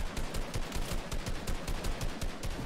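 Rapid automatic gunfire from Fortnite, Chapter 2 Season 6, in a steady stream of close, evenly spaced shots with no pause across the short stretch.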